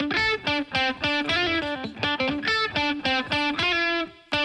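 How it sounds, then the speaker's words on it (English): Electric guitar playing a rhythmic, plucked pattern with repeated chords, each note trailing into a wash of studio reverb set around 2.5 seconds long at roughly 40% mix. "So let's go to our reverberation and add some studio reverb."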